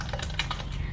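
Fingers tap quickly on a computer keyboard, a close, steady patter of several crisp keystrokes over a low background hum.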